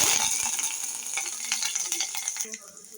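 Tempering spices and crushed garlic fry in hot oil for dal, giving a steady, close, loud sizzle with crackling pops that eases slightly toward the end.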